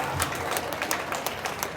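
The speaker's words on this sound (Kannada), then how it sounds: "ಒಂದ್ಸರಿ ಎದ್ದು ನಿಂತ್ಕೊಂಡು ಕೈ ಮೇಲೆ ಕೆತ್ತಿ ಜೋರಾಗಿ ಚಪ್ಪಾಳೆ ಹೊಡೆದು ವೀರ ಯೋಧರಿಗೆ ನಾವು ಗೌರವಿಸೋಣ" An audience gives steady, moderately loud applause honouring soldiers, many hands clapping in a continuous patter with some crowd murmur beneath.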